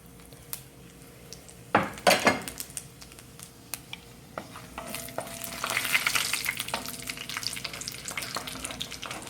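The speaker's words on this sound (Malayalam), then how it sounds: "അതിലേക്ക് നമുക്ക് ഏലക്ക, ഗ്രാമ്പു, പട്ട, ചെറിയ ജീരകം, വലിയ മുളകും കൂടെ നമുക്ക് ഇട്ട് കൊടുക്കാം" Cardamom, cloves, cinnamon, cumin and dried red chillies dropped into hot oil for a quail roast: a clatter of spices and metal utensils, then a rising crackling sizzle with spoon stirring, close and without talk.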